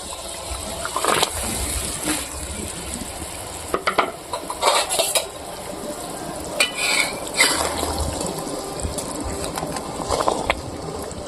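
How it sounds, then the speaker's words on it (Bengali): A pot of village-style pangas fish curry bubbling and sizzling steadily, with occasional stirring clinks and a few bird calls in the background. "অর্ধেক মাছ আমি ঝোলের মধ্যে দিয়ে দেব।"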